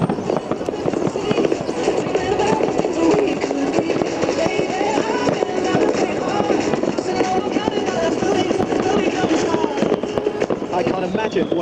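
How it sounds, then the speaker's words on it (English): Gold-trailing pyrotechnic fireworks fired from a helicopter during a night airshow at Clacton-on-Sea, crackling and popping continuously in a dense, loud barrage with crowd noise and voices mixed underneath. "a huge firework display in all directions, in all colours, firing out from the helicopter"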